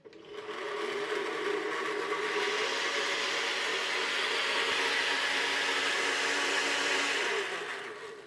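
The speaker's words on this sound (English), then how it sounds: "you just switch on and blend until it's smooth" A liquidizer whirs steadily while blending an egg, milk and flour batter for Yorkshire pudding, a smooth continuous motor drone at moderate volume that spins up and tails off after about seven seconds.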